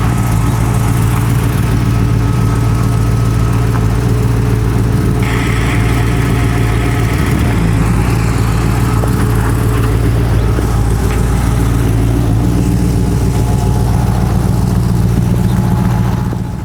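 A 1958 Chevy Cameo pickup out on a cruise, its engine holding a steady loud drone close to the cabin with road rumble underneath and no pauses throughout.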